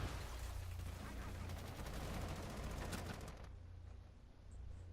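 Rapid gunfire from the video game Rainbow Six Siege, a dense stream of shots over steady game ambience that stops abruptly near the end.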